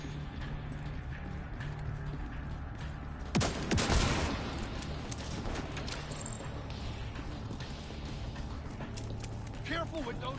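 A burst of gunfire in The Division 2 cracks out about a third of the way through, a short loud cluster of rapid shots over steady game ambience, with talk in the background.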